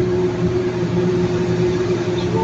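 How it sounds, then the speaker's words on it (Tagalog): A loaded dump truck carrying a heavy gravel load drones loudly and steadily with a deep, constant engine hum and no talking. "So, maririnig nyo yung makina."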